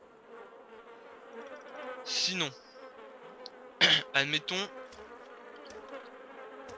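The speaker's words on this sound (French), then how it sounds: "Bon là, il y a des mouches." Flies buzz around a corpse in the video game DayZ, a thin persistent drone under someone speaking French, with louder close passes swelling briefly around the middle of the clip.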